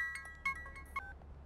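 Telephone tones from a scene in a Hindi-dubbed action film as a call is placed. A few short, bright electronic beeps form an irregular pattern, with no talking.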